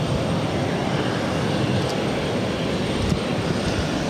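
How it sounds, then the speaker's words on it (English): JetBlue Embraer E190 jet taxiing into its gate at Boston Logan airport, a steady, broad engine roar and rumble that stays loud and even throughout, heard alone. "this JetBlue E190 actually pulling into the gate"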